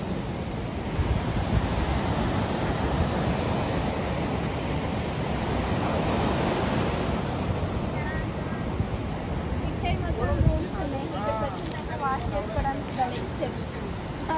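Ocean surf breaking on a beach in Goa, a continuous loud wash of waves with wind buffeting the microphone, while people talk over it in the latter half.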